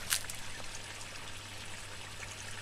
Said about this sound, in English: sets itself off, and the water runs along the bottom, out the bottom of the grow beds